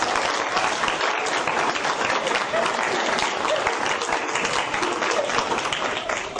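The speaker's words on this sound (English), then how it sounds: "and give them a round of applause." A school board meeting audience gives a sustained round of applause, thick and even, steady throughout at moderate volume.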